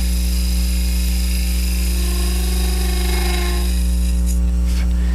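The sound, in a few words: Hunter cupped carbide turning tool cutting on a lathe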